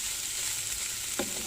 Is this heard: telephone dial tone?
no